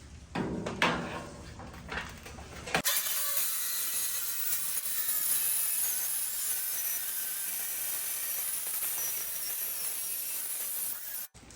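A quarter-inch hot rolled steel sheet is cut with a tool for a heavy duty welding table, starting with a few rough scraping strokes, then a long, steady, harsh high grinding hiss that stops abruptly near the end.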